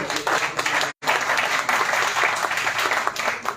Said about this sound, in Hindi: भाई तालियां तो बनती है भाई